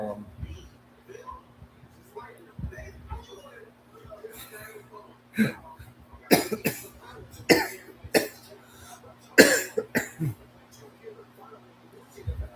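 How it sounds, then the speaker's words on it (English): A person coughs repeatedly in short, harsh, close bursts spread over several seconds, with quieter breathing and faint speech-like sounds between the fits. "I'm still coughing"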